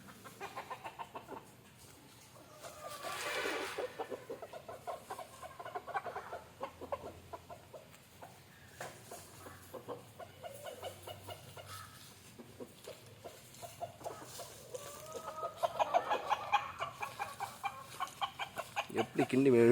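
Native chickens cluck around a coop in rural Tamil Nadu, the calls scattered and close, rising and falling over the stretch amid faint background noise and occasional brief voices.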